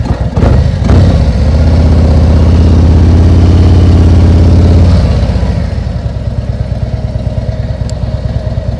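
Motorcycle engine running loud and close at slow-speed riding practice, a steady low idle-like drone that fades after a few seconds into quieter, uneven engine chugging.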